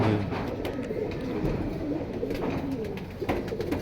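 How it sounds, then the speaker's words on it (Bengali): Red jira pigeons cooing in a loft, soft repeated low coos close by, overlapping with rustling and faint flutter, with no voices. "এটা লাল জিরা কবুতর।"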